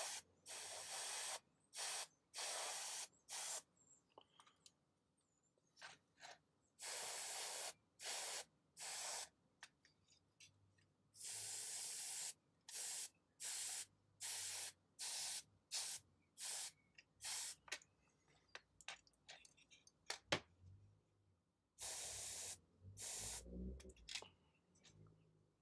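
Repeated short bursts of airbrush spray hiss, close and crisp, pulse in an uneven rhythm with small gaps while paint goes onto a Warmaster Iconoclast titan miniature.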